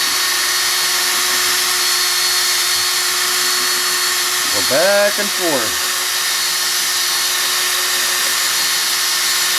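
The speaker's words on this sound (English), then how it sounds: "I'm running this drill pretty high speed. It's a Craftsman 20 volt." A Craftsman 20-volt cordless drill whirs at a steady high pitch, buffing a plastic turntable dust cover, under constant background hum, with a brief rising and falling tone midway as a voice speaks.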